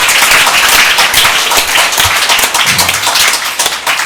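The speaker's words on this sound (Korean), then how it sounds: "여러분 서로 옆에 사람 쳐다보면서 감사의 박수 한번 하겠습니다." A church audience breaks into loud, dense clapping of thanks after a sermon remark, a steady close-up patter of many hands with one sharp nearby clap standing out near the end.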